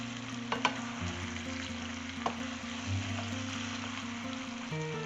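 Spiced chicken pieces with garlic sizzle steadily in a hot pan while being prepared for maqlooba, a soft continuous frying hiss with a few faint clinks of stirring.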